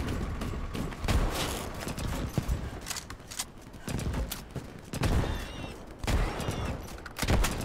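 Starship Troopers: Extermination gunfire on hard difficulty during a Grenadier ambush: dense, rapid bursts of shots mixed with battle clatter, steady and fairly loud throughout.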